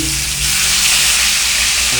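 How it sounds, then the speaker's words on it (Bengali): Steady, loud sizzling of fish frying in hot oil in a wok, a continuous crackling hiss with no voices. "মাছ কড়াইয়ে অলরেডি দিয়ে দিয়েছি"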